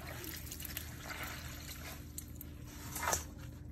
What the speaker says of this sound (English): to drain the water from it.